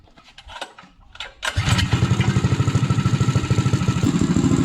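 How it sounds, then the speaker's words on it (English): A minibike engine on a black box dyno setup clatters and fires up after a few quiet rustles, settling into a loud, steady, rapidly pulsing idle. "So now I'll fire this thing up and we'll see if it shows up on the app."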